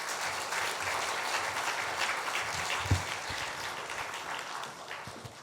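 Welcoming applause from a church congregation greeting a pastor at an autumn revival service, a steady, even clapping that holds throughout and tapers slightly at the end.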